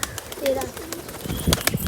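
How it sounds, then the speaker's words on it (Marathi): Pigeons, around thirteen to seventeen birds in a loft, give brief low coos among rustling and a few sharp wing flaps, close and busy, with someone talking over them. "इथे कबूतर आहेत आपली"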